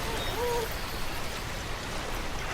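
Steady rushing stream water as a character wades through a river in Death Stranding, a continuous, even wash of moderate loudness with no talking.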